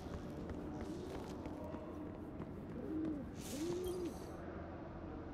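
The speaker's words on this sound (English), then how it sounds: "I am glad to see birds still nest in these old walls." Pigeons coo in the video game Destiny 2, a few soft rounded calls rising out of a steady wash of ambient game noise in old stone walls, with no talk.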